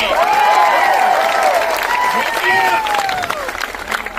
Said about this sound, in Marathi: जोरात टाळ्या वाजून इथून टाकून द्या।